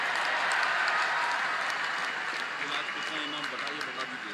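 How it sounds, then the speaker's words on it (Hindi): Loud, sustained applause from a large audience at an award ceremony, dense clapping that stays steady and eases off slightly toward the end. "तो जोरदार तालियां इनके हैप्पी बर्थडे के लिए"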